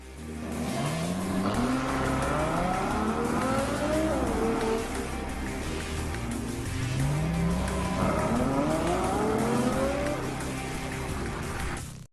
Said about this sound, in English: The FF, meaning Ferrari 4, has the largest capacity road-going Ferrari engine ever produced.